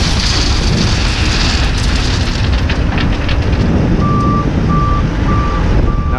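A new Manitou machine at a quarry-fed land drainage job gives four evenly spaced reversing beeps in the second half, sounding over a loud, steady rumbling engine and rough grinding noise.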